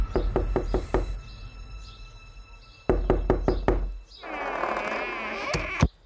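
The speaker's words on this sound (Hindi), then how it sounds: "अचानक उसके दरवाजे पर कोई खटखटाता है।" Knocking on a door as a horror podcast sound effect: a quick series of about five sharp knocks, a pause, then another cluster of four or five, followed by a hissing swell and a final thump.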